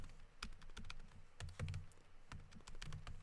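Numbers being keyed into a graphing calculator during an algebra problem, an uneven run of soft, close, quick key taps with brief pauses and no talking.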